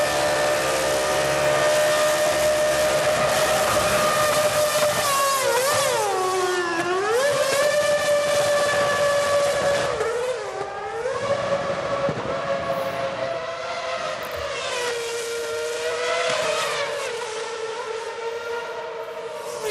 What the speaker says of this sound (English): When you stand next to one of these cars on full blast, just get a sensation of the ground shaking and your ears just echo for hours afterwards.